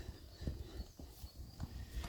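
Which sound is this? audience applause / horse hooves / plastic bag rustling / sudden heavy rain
horse hooves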